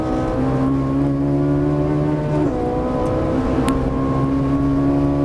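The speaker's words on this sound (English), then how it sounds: "Full throttle." A Ferrari 458 Italia at full throttle on the Auto Club Speedway track, heard from inside the car. The engine drones loud and steady, with one quick gear shift midway before it pulls hard again.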